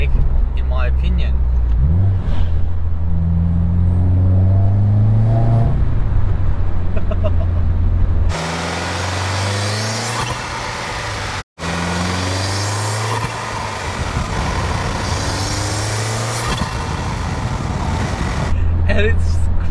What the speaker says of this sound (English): there's a turbo whine that comes with the dump pipe that sounds so much better than the intake